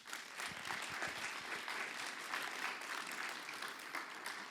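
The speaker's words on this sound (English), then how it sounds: "A round of applause." An audience at a climate finance conference day applauds, a steady, fairly faint wash of many hands clapping that continues throughout.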